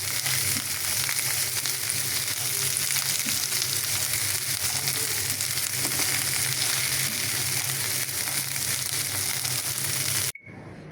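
Garlic, green chillies, peanuts and coriander leaves fry in mustard oil with a dense, steady close sizzle lasting about ten seconds, then cutting off abruptly near the end.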